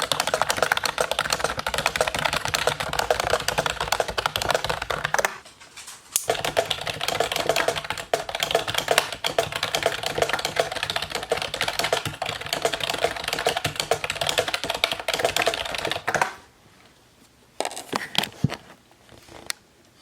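Fingers type steadily on a computer keyboard during a writing session, a dense, close run of rapid key clicks that stops briefly around five seconds and again near the end before resuming in short spurts.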